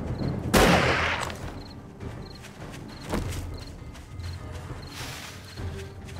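Gunfire from the survival game 7 Days to Die, played on the Undead Legacy hardcore mod during a blood moon night: two or three sharp, loud single shots ring out at intervals over a steady background din, with no talking.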